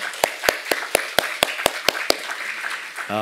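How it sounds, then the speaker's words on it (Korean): Church congregation clapping in welcome for visiting missionaries during a Sunday service, about nine sharp, evenly spaced claps, then a brief tone at the end. "우리 박수로 먼저 환영하시고요"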